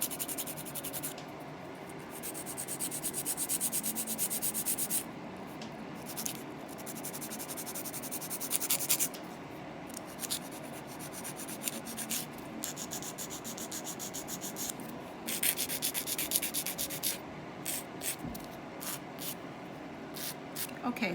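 Steady abrasive scraping and rubbing of a file sanding acrylic nails, close up and continuous, with brief pauses and changes in pressure throughout.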